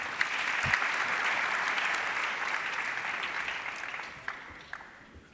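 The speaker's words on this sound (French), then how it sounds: "Veuillez vous applaudir très très fort s'il vous plaît." A conference audience applauds steadily, a dense, fairly distant wash of clapping that holds for several seconds and then tapers off.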